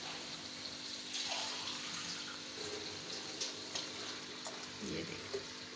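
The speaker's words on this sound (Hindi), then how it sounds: "चलिए हम इसमें थोड़ा सा इसमें पानी ऐड करेंगे।" Water poured into a pot of cooking masoor dal, a soft continuous splashing and trickling with small bubbling bursts, with no voices.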